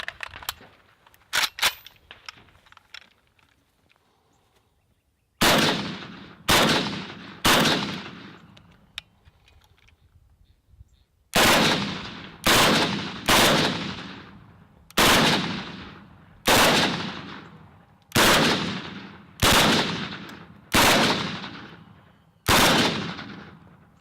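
A 5.45 rifle fires about a dozen sharp, loud single shots at a steady pace, each with a short decaying echo, after a few fainter scattered shots at the start.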